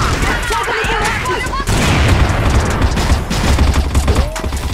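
Rapid video-game gunfire from a shooter match crackles in dense bursts throughout, loud and close, with smoke-grenade action nearby and voices talking over the shots.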